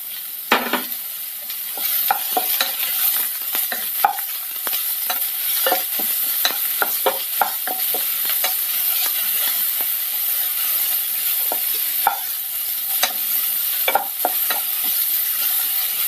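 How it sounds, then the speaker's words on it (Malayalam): Onions fry in a pan with green chilli, garlic and ginger for an ivy gourd curry: a soft steady sizzle broken by repeated sharp scrapes and clinks of a spatula stirring, close by. "ഇപ്പോൾ സവാളയൊക്കെ നന്നായിട്ട് മൂത്തിട്ടുണ്ട്."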